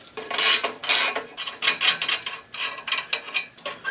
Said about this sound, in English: But first, I have to take off these clamps.